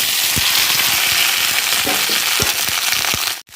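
Okra dropped into hot oil sizzles and fries steadily, a loud continuous crackle with scattered pops and small stirring knocks close by, cutting off abruptly near the end.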